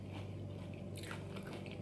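Crunchy fast food from Sonic being chewed close to the mic, with steady moist crunching and biting through the whole moment and no talking.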